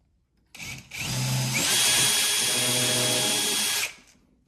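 A power drill drives screws into a cabinet: a short whir, a brief pause, then a loud, steady whine for about two seconds before it stops, close up with no talking.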